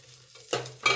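Cumin, mustard seeds, dried chili and garlic sizzle in hot oil in a pan as they are stirred, with quiet scraping first and then two louder bursts of frying near the end.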